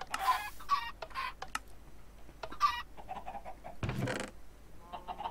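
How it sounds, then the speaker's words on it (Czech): Chickens in the Minecraft video game cluck in short, repeated bursts, several close calls spaced irregularly with a brief scuffing sound midway. "Tak jsou na to slepice."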